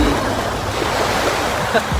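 Sea waves wash onto a white-sand beach at a resort in San Juan, Batangas. The close, continuous surf roar is mixed with wind buffeting the microphone.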